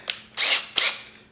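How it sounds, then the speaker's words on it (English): Short bursts from a power drill with a small 1/8 inch bit, prepping a Dana 300 transfer case for a 700R4 swap: three quick whirring spurts, close and fairly loud, with no talk. "take a smaller drill bit, 1/8 inch drill bit or something like that, go in there, drill that a little bit"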